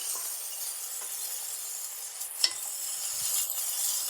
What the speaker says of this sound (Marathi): एक चमचा तेल घातलेलं आहे कढईमध्ये आणि कढईमध्ये एका एक चमचा तेलावर आपल्याला ही भाजून घ्यायची